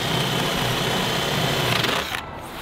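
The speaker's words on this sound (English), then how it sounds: "there's nothing like a nice drill hole" A drill drives a spade bit through wood for a front door build, a steady loud whirring grind that runs for about two seconds and then drops off as the bit stops.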